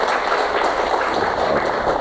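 A seated audience at an Islamic religious talk gives a round of applause, a dense, steady wash of clapping that holds at an even level for the whole two seconds without pause.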